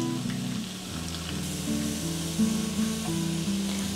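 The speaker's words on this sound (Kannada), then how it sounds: "ಇಲ್ಲಿ ಎಣ್ಣೆ ಬಿಸಿಯಾಗಿದೆ. ಈಗ ಇದನ್ನು ಬೆಳ್ಳುಳ್ಳಿಯನ್ನು ಹುರಿದುಕೊಳ್ಳುವ ಫಸ್ಟಿಗೆ." Garlic fries in hot oil in a kadai for hakka noodles, giving a steady close sizzle and crackle that runs throughout under a low background hum, with no voices.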